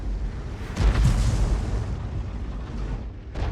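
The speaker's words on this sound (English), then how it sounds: "I think we just saw the enemy Arty fire" Enemy artillery fire explodes in a tank video game, a heavy booming blast with a rumbling tail and a second fainter burst near the end.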